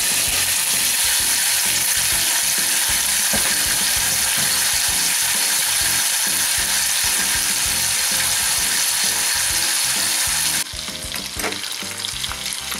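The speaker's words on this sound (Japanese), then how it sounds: "ベーコン焼きたいと思います" Bacon sizzling and frying in a pan, a loud continuous crackle and hiss with small popping bursts throughout, steady from start to end.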